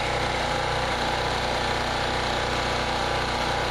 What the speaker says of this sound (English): I'm shutting the gas cocks off and let the carburetor run out of gas, the carburetor bowl.